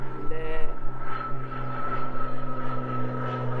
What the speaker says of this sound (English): L'aeroplane.